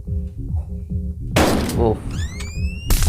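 A dealer fires a shotgun in the Roblox game Buckshot: a sharp, heavy blast cuts through a looping, thumping game soundtrack, with a second burst near the end.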